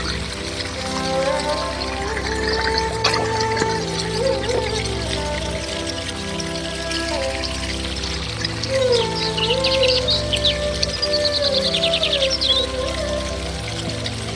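A waterfall flowing steadily with a dense continuous rush of water, birds calling faintly over it and soft background music throughout.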